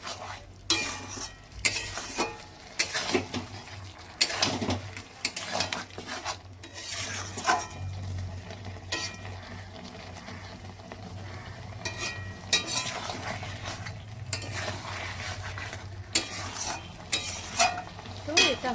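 A spiced vegetable curry sizzles steadily in a pan while a spoon stirs and scrapes it, with repeated metallic clinks and rasping strokes over the frying hiss throughout.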